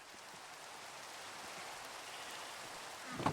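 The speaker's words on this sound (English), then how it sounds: "Oh, it's raining. Now that is ASMR. I do like Minecraft rain." Steady rain in the Minecraft video game, a dense, even hiss of drops falling throughout, close and continuous with no voices, swelling slightly louder at the very end.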